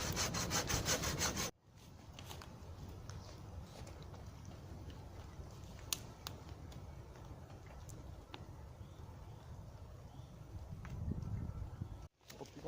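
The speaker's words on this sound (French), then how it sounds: "Aux lames pliantes, les scies pliantes." Rough back-and-forth sawing through wood with a folding saw, steady rasping strokes close to the microphone, with a brief pause near the start and another near the end.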